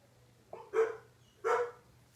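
Two short barks from a dog indoors, fairly close and moderate in volume, spaced under a second apart over a quiet background hum.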